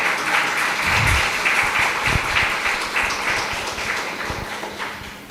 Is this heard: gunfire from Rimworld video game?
no